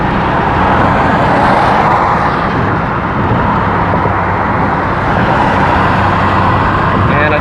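Steady close road roar from inside a car cruising on a highway and overtaking traffic around a Mercedes, a semi truck and a Nissan Maxima, with continuous engine and tyre noise throughout and no speech.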